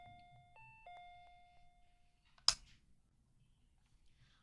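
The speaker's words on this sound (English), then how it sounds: "the unfamiliar sound is the apartment's doorbell" An apartment doorbell in the horror game Scar Of The Doll rings out alone in a quiet room, a clear two-tone electronic chime that holds for about two seconds before fading, followed by a sharp click.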